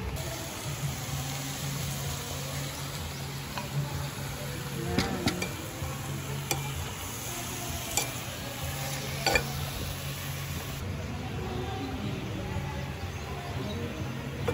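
Seasoned chicken sizzles steadily in a pan, with occasional scrapes and clicks of stirring over a constant low frying hiss, heard close but fairly quiet with no talking.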